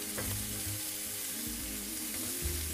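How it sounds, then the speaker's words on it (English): Fennel and mussel stock sizzle and bubble in a hot frying pan while cooking seafood escabeche, giving a steady, close frying hiss with a few soft stirring knocks and no talking. "I want to throw in the fennel into the pan."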